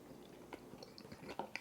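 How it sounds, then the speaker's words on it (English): Soft, close chewing and biting on a mouthful of gado gado, an Indonesian dish of vegetables in peanut sauce, starting with potato; faint squishy mouth sounds come in irregular bursts, quiet and without speech. "Let's try a bite, starting with the potato."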